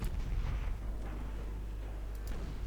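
Torpedoes detonating against warships in the naval game Ultimate Admiral: Dreadnoughts, a deep rumbling boom at the start that rolls on and fades, then a couple of faint later thuds, with no talk.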